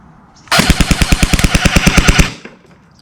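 A Black Rain Ordnance SPEC15 Shorty airsoft rifle fires BBs in one full-auto burst of about sixteen rapid, evenly spaced snapping shots over roughly two seconds, loud and close, with no talk.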